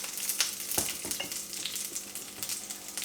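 Chopped potato tumbling into a hot pan of Maharashtrian-style fried rice made from leftover rice, then stirred, giving a steady close sizzle with scraping and clinking spatula strokes throughout.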